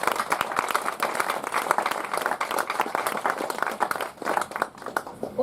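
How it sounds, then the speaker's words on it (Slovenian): An audience at a round-table discussion on minority languages gives steady applause, dense overlapping claps at moderate distance that keep going throughout and thin slightly toward the end. "Lep aplavz vsem."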